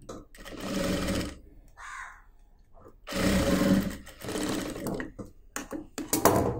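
A sewing machine stitches churidar fabric in bursts of loud, rapid running stitches, broken by short pauses, close up with no talking.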